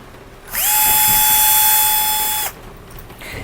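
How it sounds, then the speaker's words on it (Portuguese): A power screwdriver removing screws from a motorized smart-curtain rail gives one close, loud whirring spin of about two seconds that rises quickly to a steady whine and then cuts off. "Remover os parafusos"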